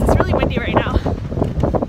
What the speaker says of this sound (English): I hope you can hear because it's really windy right now.